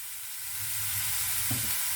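Cauliflower pieces stir-fried in a pan with oyster sauce and pepper, a steady close sizzle that builds slightly, with a brief scrape of stirring near the end and no talk.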